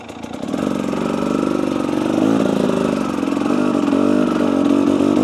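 Two-stroke 300cc motorcycle held in first gear near idle, its engine running as a steady, loud, close burble with a slight rise in pitch partway through and no voices.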